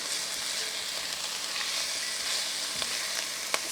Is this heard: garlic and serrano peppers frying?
yes